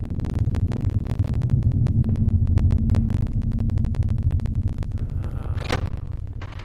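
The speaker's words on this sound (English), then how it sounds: "That's the humming you can hear." A low droning hum fills a cave area in the horror adventure game Home, steady and throbbing underneath, with scattered faint clicks and ticks over it and no voices.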